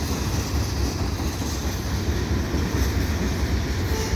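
CN freight train rolling past at Dorval, a steady loud rumble with continuous rail noise filling the whole stretch, close by and without pause.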